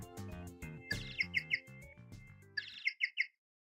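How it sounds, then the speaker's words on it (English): A penguin-like phone ringtone from the video game Apollo Justice plays as two bursts of chirpy, squawking notes over a short musical jingle, clear and alone, then stops. "That's my ringtone."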